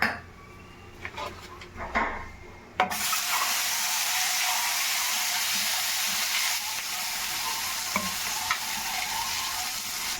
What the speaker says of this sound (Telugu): ఇప్పుడు ఈ నూనెలోనే మనం ఎగ్స్ కూడా వేయించుదాము.